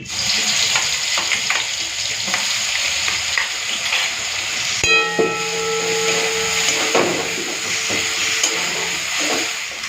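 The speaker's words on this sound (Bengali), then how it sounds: "তো মশলা লেগেছিল একটুখানি জল দিয়ে ধুয়ে নিলাম দিয়ে দিলাম জলটা" Water used to rinse leftover spice paste from a grinding stone is poured into a hot pot, setting off a loud, continuous sizzle and hiss that steadies after a brief change midway.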